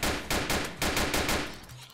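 Glock pistol gunfire in a police video game, a rapid run of sharp, loud shots in quick succession that stop near the end, heard alone without talk.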